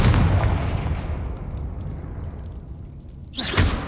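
A blasting spell goes off in a Hogwarts wizarding video game, a rumbling explosion that rolls out and slowly fades, followed by a sharp, bright burst near the end.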